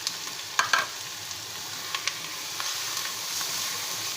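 Tomatoes and green chilies frying with softened onions in a pan for Pakistani-style butter chicken, a steady hissing sizzle with a few clattering utensil strikes near the start, close and moderate in level.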